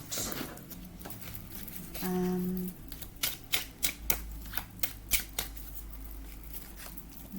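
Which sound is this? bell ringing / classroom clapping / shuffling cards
shuffling cards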